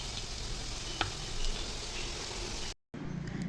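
Onion, bay leaf, dried red chilli, cardamom, clove and cinnamon frying in oil in a pan, with turmeric about to go in, make a steady, dense sizzle that runs unbroken before a brief dropout near the end.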